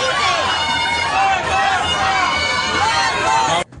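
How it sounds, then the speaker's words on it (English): Concert crowd chanting for one more song, a dense rhythmic roar of many voices with rising and falling chant contours, loud and continuous before cutting off abruptly at the end. "so they got the crowd chanting one more song"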